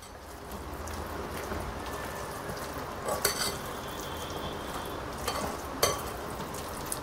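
Cucumber pickle (dosakaya avakaya) mixed by hand in a bowl, a continuous soft wet squishing and stirring texture with a few brief clinks.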